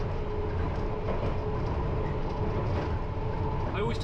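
A London Underground Piccadilly Line train runs steadily, heard from the driver's cab as a continuous low rumble and rattle of wheels on track, with a faint voice near the end.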